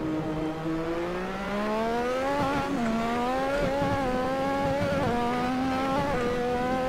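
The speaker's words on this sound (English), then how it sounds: "So quickly through the gears now." Lotus 98T Formula One race car in Assetto Corsa at Spa Francorchamps, its engine revving high and climbing through quick gear changes, the pitch dipping briefly at each shift, loud and steady with no voices.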